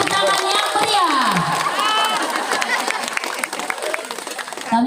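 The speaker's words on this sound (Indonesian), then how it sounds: "Kasih tepuk tangan yang meriah." An audience at the opening of a madrasah expo in Labuhanbatu, 2025, claps and cheers right after a ribbon-cutting countdown, a dense, continuous wash of applause with shouts and voices mixed through it.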